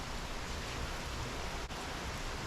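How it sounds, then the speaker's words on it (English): Steady rain falling outside, a dense, even hiss of light rain heard close and alone throughout, with no voices. "yeah, it's raining outside"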